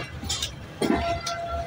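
Passenger train on the Karachi to Multan route rolling along the track near Karachi Cantt, a steady low rumble with faint clinks and brief rattling bursts, heard close from aboard.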